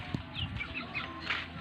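Soft, scattered clucking from a few chickens nearby, short murmuring calls over a low outdoor background hum.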